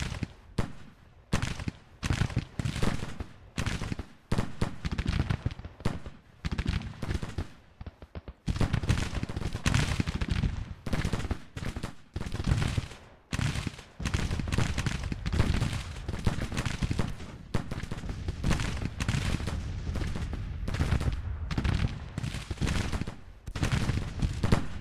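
Dense, continuous crackle of massed Union and Confederate rifle and cannon fire from a Civil War battle in the strategy game GT:CW Whiskey and Lemons, with overlapping volleys and sharp reports rolling on without pause for the whole stretch.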